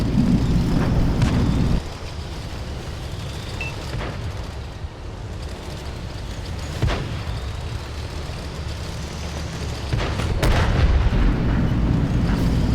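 Tank cannon shots in World of Tanks, with a Char 25T light tank in battle: a few heavy booms rise over a continuous low engine and battle rumble, loud and close.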